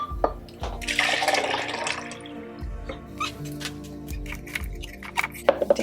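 Liquid drains and drips from mulch in a home studio while making vitamin D and B12 shots, heard as close trickling and splashing with scattered drips and light handling clatter.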